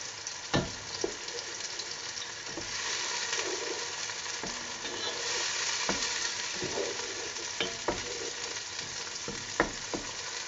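Onions frying in a pan for a Pakistani-style aloo keema, a steady close sizzle with sharp clacks of a spoon stirring and scraping at irregular moments, no talking.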